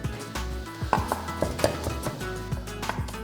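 Apple being cut into small cubes with a knife on a board in a kitchen, a run of quick, sharp chops at an uneven rhythm, close and fairly clear.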